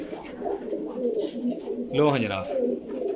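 An Indian female pigeon coos among other birds at a breeder's loft in Jhelum. The cooing is clear and rhythmic, and a loud, throaty burst stands out near the middle. Someone speaks briefly over it.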